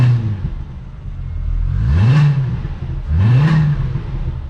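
A stock Volkswagen Jetta VR6 wagon engine revs twice from idle, each short blip rising in pitch and falling back, heard up close over a steady idle with no talking.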